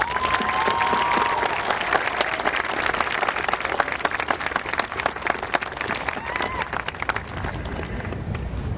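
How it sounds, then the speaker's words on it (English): Graduates and crowd in the stands at Grant High School's 2025 graduation give a long, loud round of applause, mixed with crowd babble and a couple of whistles, thick clapping continuing for the whole stretch. "let's give our families in the stands a round of applause"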